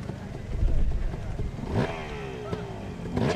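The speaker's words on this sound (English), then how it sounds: "Two-stroke zinging." A two-stroke motorcycle engine at a hill climb event revs up and zings at high pitch, rising and falling, with a second burst near the end over rough background noise.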